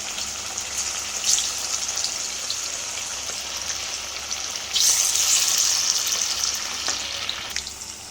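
Chicken 65 pieces dropped into very hot oil produce a continuous loud frying sizzle that surges sharply partway through, then settles, heard close with no voices.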